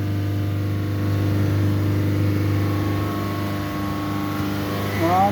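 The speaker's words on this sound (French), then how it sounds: "Voilà, le moteur il est bien accéléré." A Peugeot car engine holds a steady raised idle during diesel particulate filter regeneration, a loud continuous drone with a low hum that carries through to the end, where a brief sliding sound rises.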